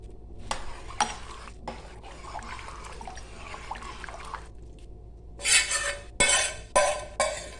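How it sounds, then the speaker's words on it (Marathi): Fried masala goes into simmering chicken soup on a village-style stove, with a spoon scraping and stirring, soft liquid sloshes, then several sharp clinks of metal against the pot near the end. "एका बाजूला आपण सूप गरम करत उकळत ठेवलेले त्यात हा राहिलेला आता मसाला आपण घालून घेऊया"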